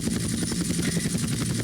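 A helicopter in GTA Vice City gives a loud, rapid rotor chop with regular beating pulses, sustained evenly across the whole moment and heard on its own without talk.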